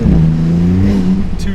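Maserati MC20 engine accelerating hard as the driver struggles to put the power down, a loud, close, continuous rising drone with a strong harmonic tone filling the whole stretch.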